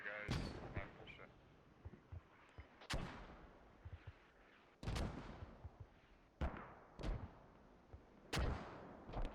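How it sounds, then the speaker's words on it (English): Mortar shells exploding in the military shooter game Squad, a series of sharp, heavy blasts at irregular intervals with smaller pops and rumbling between them, fairly quiet overall. "More mortar shells raining down, wiping out a bunch of guys."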